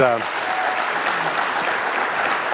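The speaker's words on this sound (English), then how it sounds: "big round of applause, Mr. Dan Wollman" A crowd applauds Dan Wollman after his talk for Mesa United Way, a steady, dense wash of clapping that holds evenly at moderate loudness for the whole stretch, with a brief voice at the very start.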